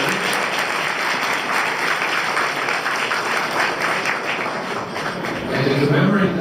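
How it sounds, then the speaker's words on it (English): Steady applause from a sizable crowd at a National Day reception, dense and continuous clapping that swells slightly near the end. "applause for everyone who put this event together"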